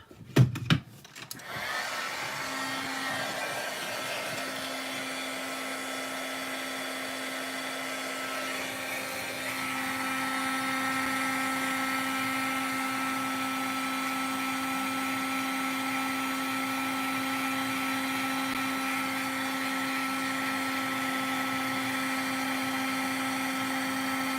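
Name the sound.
heat tool running for emboss resist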